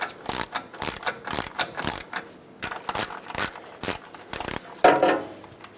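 Neutral safety switch on a Ford E-350 van being tightened and worked back and forth, giving a run of sharp mechanical clicks and ratcheting snaps in irregular bursts, close and fairly loud, with no talking.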